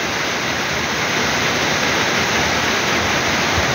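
Steady rain falls onto a garden pond, a dense, even hiss of drops on water that stays loud and constant throughout with no voices.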